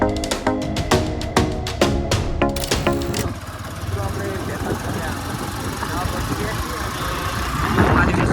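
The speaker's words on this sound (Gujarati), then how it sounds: "ચલો હવે બાઈકમાં જઈએ" A motorbike engine puttering in rhythmic pulses, then settling into a steady, rougher rumble as it keeps running nearby.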